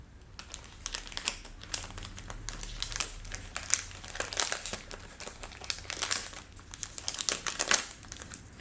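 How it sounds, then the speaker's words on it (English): Candy wrappers from Ukrainian sweets crinkle and crackle up close in a steady run of crisp rustling bursts, with no talking. "I'm trying not to be too loud with these wrappers."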